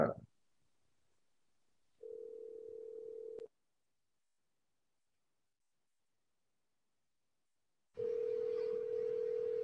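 Steady telephone dial tone sounds twice while placing a call, a clear continuous hum from about two to three and a half seconds and again from eight seconds onward, separated by silence, with a brief rustle at the start.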